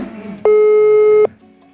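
A steady electronic telephone tone sounds loud and alone for under a second during an attempt to call someone abroad, with faint background noise before and after.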